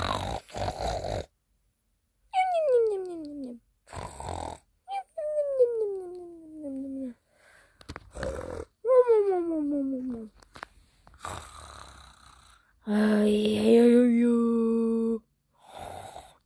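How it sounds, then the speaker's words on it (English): Loud, repeated snoring from a sleeper, each long rattling breath falling in pitch, several cycles separated by silent pauses, ending in a harsher nasal snort. "why are you snoring like that? I'm trying to go to sleep."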